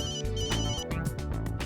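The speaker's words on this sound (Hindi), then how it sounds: "वेला ने भी फोन किया था, शायद इसी पार्टी के लिए किया होगा।" A phone ringtone plays alone, a bright repeating electronic melody with steady rhythmic pulses sounding close and clear throughout the short stretch, with no voices over it.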